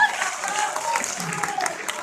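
Theatre audience clapping after a stage play, a continuous, fairly loud round of applause from a crowd, steady and unbroken over two seconds.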